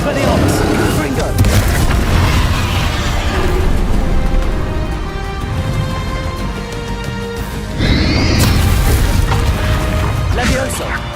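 Confringo and Bombarda blast spells explode in the Hogwarts Legacy video game, producing loud, continuous booms and crashes layered over game music, with a fresh burst near the end.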